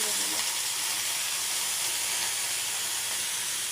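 Sliced ridge gourd dropped into a pan of fried potatoes, setting off a loud, steady hissing sizzle that fills the clip from start to finish.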